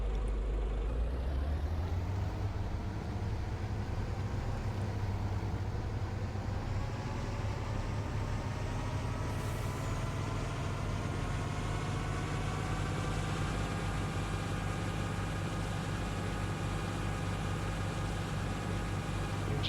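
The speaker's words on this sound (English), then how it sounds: "Engine sound is a little bit different from the other truck." A truck engine idles steadily in Farming Simulator 19, a low continuous rumble with a faint rising whine near the start, holding even and fairly loud for the whole stretch with no talk over it.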